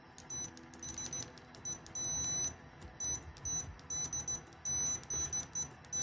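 Sanwa PM11 multimeter in continuity mode, its probes touched repeatedly: a series of short, fairly quiet high-pitched beeps in irregular bursts, one held longer, with a little handling noise and no talk.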